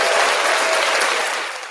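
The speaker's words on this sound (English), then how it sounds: "We got to give her some hand clapping here tonight." Dense hand-clapping applause from a live audience, loud and steady throughout, tapering slightly at the end with no voices over it.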